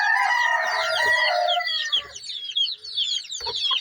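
A hen clucks steadily while her day-old chicks peep in a dense, high chorus, with a few soft thumps of pecking at feed close by.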